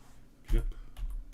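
Typing on a computer keyboard: a few quick clicky keystrokes, the first loudest, in a short burst close to the mic.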